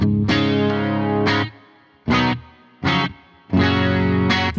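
Electric guitar through a BOSS GT-1000 with a two-second plate reverb, playing sustained chords and short stabs, each followed by a shimmering reverb tail that lingers briefly between the phrases, close and fairly loud.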